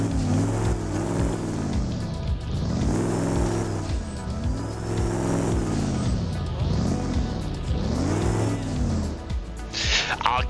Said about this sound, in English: You can hear the turbo.